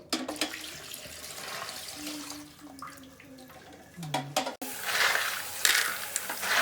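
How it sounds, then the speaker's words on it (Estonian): Tap water runs into a sink while aquarium filter contents are rinsed, a steady splashing flow with brief clatter, then a louder, fuller gush near the end. "Vala filtri sisu korvava kraanikaussi ja pese puhtaks."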